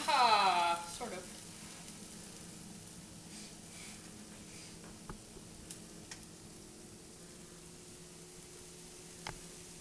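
A coconut flour crepe sizzles in a frying pan with a steady, soft hiss that carries through the whole stretch, after a brief voice-like sound at the very start.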